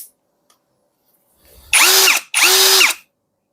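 A VRILL cordless hammer drill runs in two loud, high-pitched bursts of about a second each, separated by a brief pause, after a faint click and a short quiet spin-up.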